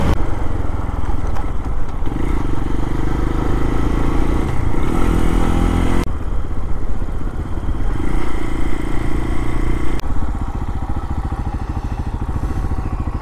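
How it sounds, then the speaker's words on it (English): A KPX 250 motorcycle engine runs steadily and loud while being ridden, with a continuous rumbling drone that shifts in pitch several times as the throttle changes, and no talking over it. "this KPX 250 runs good"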